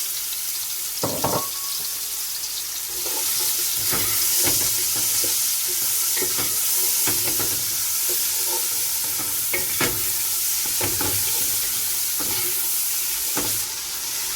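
Onions with salt and curry powder frying in a pot for Nigerian party jollof rice, a steady close sizzle punctuated by repeated scraping stirs of a spoon at irregular intervals.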